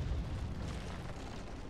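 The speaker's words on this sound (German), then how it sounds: "Warum explodiert das jetzt?" A deep, rumbling explosion in Rise of the Tomb Raider, set off with Greek fire, with heavy low-end boom that lingers and slowly fades.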